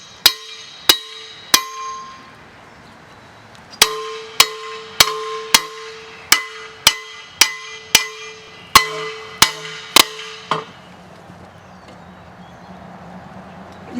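A lightweight claw hammer strikes a metal game camera security box again and again, sharp ringing metallic blows in bursts with short pauses, loud and close, each hit leaving a brief resonant tone.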